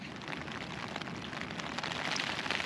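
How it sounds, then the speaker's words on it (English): Rain falls on a tent in a dense, continuous patter of drops, close and fairly loud, with no talk over it. "I don't know if you can hear the rain"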